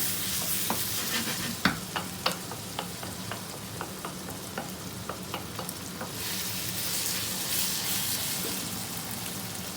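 Lamb mince frying with capsicum in a pan, a continuous sizzle under repeated scraping stirs of a spoon against the pan, steady and close.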